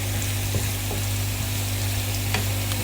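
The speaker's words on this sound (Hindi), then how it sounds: "इसको हम जब तक फ्राई करेंगे जब तक ये लाइट गोल्डन ब्राउन नहीं हो जाता" Onions and garlic fry in a pan until light golden brown, a constant dense sizzle close and steady, with faint occasional stirring clicks and no talking.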